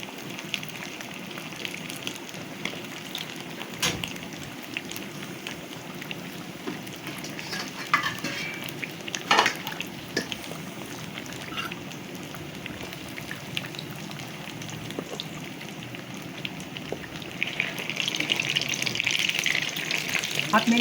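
Besan-coated bread slices fry in hot oil with a steady, close crackling sizzle that swells toward the end, broken by occasional utensil knocks.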